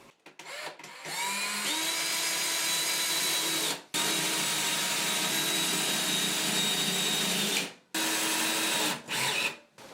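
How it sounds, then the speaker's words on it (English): Close power drill drives finish screws into a baseboard heater cover in two long steady whirring runs broken by short pauses, with a few brief bursts at the end. "I'm going to use finished screws to screw those into place."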